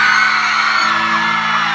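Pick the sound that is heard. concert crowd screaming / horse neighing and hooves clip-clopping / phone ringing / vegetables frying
concert crowd screaming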